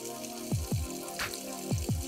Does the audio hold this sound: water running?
yes